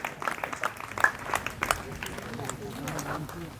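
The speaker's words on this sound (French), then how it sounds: "il faut les applaudir hein, avec cette chaleur" Outdoor audience at an automobile concours d'élégance in the heat claps in scattered bursts, with a voice talking over the applause and crowd murmur.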